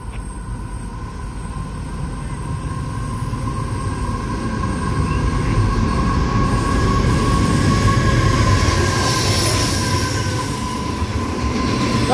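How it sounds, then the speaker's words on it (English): Freight train hauled by ACD 6048 and ACD 6029 passing platform 3 at Concord West station, a loud sustained rumble of wagons with steady wheel noise and faint squealing tones, growing slightly louder midway, no talk. "We have a freight train passing platform number 3."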